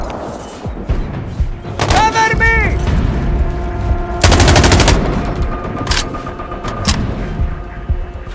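Gunfire in the video game Sniper Ghost Warrior Contracts, a loud rapid burst of automatic fire amid shouted voices and other combat noise, followed by a few sharper isolated shots.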